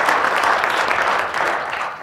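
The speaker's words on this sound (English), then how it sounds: "Let's give another round of applause for all of this from RPI." Audience at a presidential panel on translation, innovation and entrepreneurship in Boston claps in a steady, dense wash of applause throughout, moderately loud and evenly sustained.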